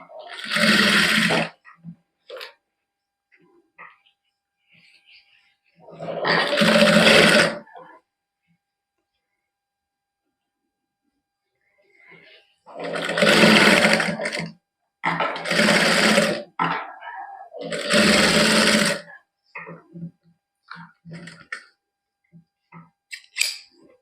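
A sewing machine stitches the neckline of a Punjabi suit in five separate loud bursts of a second or two each, with quiet pauses between them.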